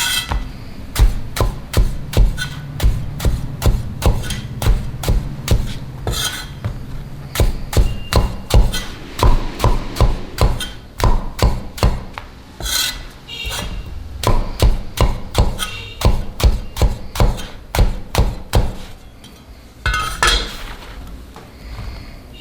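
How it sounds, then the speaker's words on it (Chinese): A kitchen knife chops eggplant into diamond-shaped pieces on a cutting board, sharp close knocks in quick, uneven runs with short pauses between batches. "然后将茄子翻面斜刀切成菱形块"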